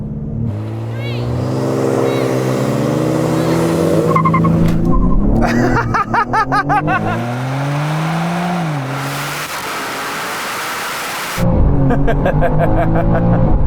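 Manhart-tuned BMW M3 and M2 launching side by side in a drag race, engines revving hard with rising pitch sweeps, tyre squeal and a loud, close roar that drops then surges again near the end.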